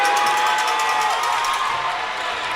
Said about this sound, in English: The crowd's getting into it.